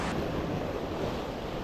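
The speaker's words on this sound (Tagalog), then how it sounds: "Malakas ang alon." Strong ocean waves at high tide wash ashore as a steady, loud broadband roar, with wind buffeting the microphone throughout and no speech.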